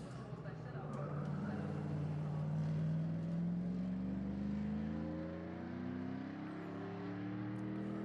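A NASCAR stock car in road-course setup races up a hill climb course, its engine note rising steadily as it accelerates and passes, heard at a distance under a commentator's voice.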